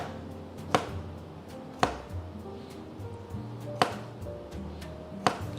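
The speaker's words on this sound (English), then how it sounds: "feels like it doesn't even matter how finely I chop these" A knife chops three large garlic cloves on a board while Thai restaurant dishes are cooked at home. Four sharp, isolated knife strikes land roughly a second or more apart, clear and close, with no talking.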